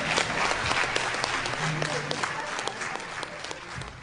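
A luncheon audience claps steadily for the speakers, a dense, even round of applause heard at moderate distance throughout.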